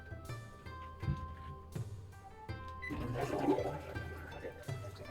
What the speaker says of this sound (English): After flushing, you can wash your hands with fresh water that goes into the tank to conserve water.